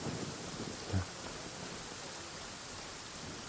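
Steady broadband rain hiss from the Genshin Impact game world fills the whole stretch at an even, moderate level, with one soft low thump near the start and no talking.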